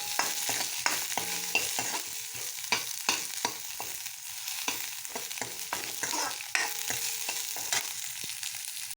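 Curry leaves dropped into hot oil for a rasam tempering, a close sputtering sizzle broken by sharp crackles and pops, fairly quiet overall with no talk.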